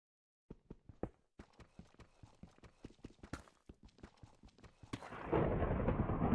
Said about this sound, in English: there's a crazy thunderstorm going on out there right now